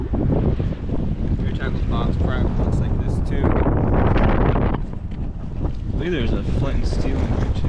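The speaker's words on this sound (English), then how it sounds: "Yeah guys, it's windy." Wind buffets a fishing boat out on the water, a loud, gusty rumble swelling and easing against the microphone, with voices talking intermittently under it.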